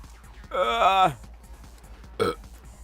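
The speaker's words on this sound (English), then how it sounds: "Hang on, I gotta burp." A long, loud, voiced burp lasting about half a second, followed shortly by a brief second throaty sound.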